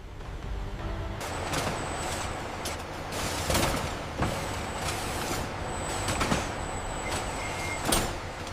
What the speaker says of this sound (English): Loading docks bustle as forklifts move orange peel fabric pallets toward waiting trucks and shipping containers.